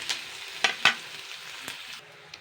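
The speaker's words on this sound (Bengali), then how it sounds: "এবার আমি পেঁয়াজটাকে জাস্ট 1 থেকে 2 মিনিট নাড়াচাড়া করে নেব" Onions stirred while frying in a pan, a soft continuous sizzle broken by several sharp scrapes of a spoon against the pan, close and unaccompanied by speech.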